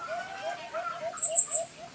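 Ringneck dove with its fledgling pigeon, soft repeated coos and chirps pulsing steadily at close range, with a few brighter high calls near the end.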